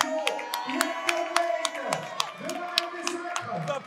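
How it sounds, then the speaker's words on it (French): Crowd at a welterweight fight event claps and cheers after the bout, sharp scattered hand claps over an announcer's voice, moderately loud and rhythmic. "On peut applaudir son adversaire qui n'a vraiment pas à rougir."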